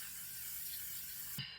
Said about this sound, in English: Y'all know I absolutely love this setting spray.